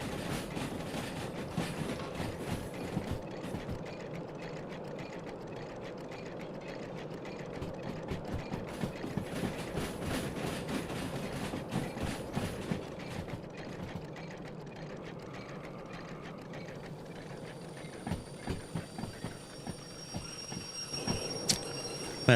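S282 steam locomotive in Derail Valley rolling on after the throttle is cut: a steady mechanical rumble with rapid rhythmic clatter of wheels and rods throughout, a few sharper clanks and hisses near the end, no talking.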